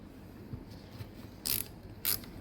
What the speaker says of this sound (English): drop your mag back in